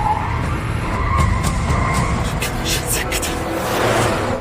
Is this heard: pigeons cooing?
no